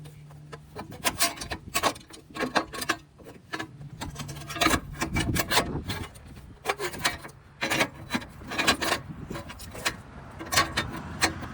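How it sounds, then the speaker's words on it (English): A Nissan battery tray slides back into place in an engine bay, giving repeated scraping, rubbing and knocking sounds in uneven bursts close by, with no voices. "it's the same way you slide it back in"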